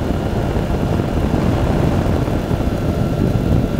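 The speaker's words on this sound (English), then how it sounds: "Here comes the airplane again." A propeller airplane flies overhead above a parachute drop zone on the North Shore of Oahu, its engine a steady, loud, continuous drone that holds throughout with no voices.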